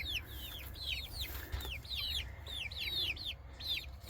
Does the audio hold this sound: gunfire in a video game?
no